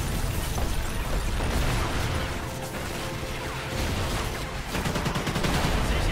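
Dense, continuous bursts of rapid gunfire from the video game Call of Duty: Ghosts crackle and rattle without pause, mixed with mechanical clatter and a low rumble of explosions.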